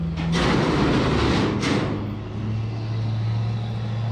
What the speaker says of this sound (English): One truck pulling another truck on a bed.